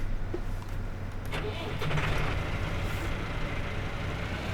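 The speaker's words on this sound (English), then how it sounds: "we'll pull the tractor forward again, Massey Ferguson, just to keep the yard a bit neater" Massey Ferguson tractor engine in Farming Simulator 17, a steady low diesel rumble as the tractor pulls forward across a farmyard, continuous and fairly close with no talk.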